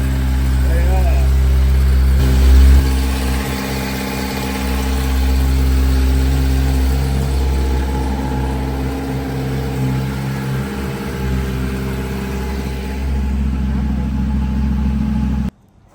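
A new Kawasaki ZX10R motorcycle with its quiet stock exhaust idles nearby, a steady low rumbling hum under people talking close by, then cuts off abruptly at the end.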